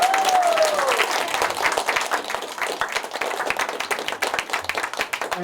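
Applause welcoming a congressman at a community political event, close, lively clapping from a crowd with individual hand claps standing out, continuous throughout and fairly loud.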